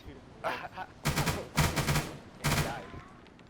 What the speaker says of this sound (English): That was an effective flashbang, I do have to say.